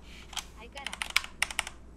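Keys on a computer keyboard clatter in an irregular scatter of quiet, close taps while someone plays a PC game, with a short gap before a quicker cluster of keystrokes.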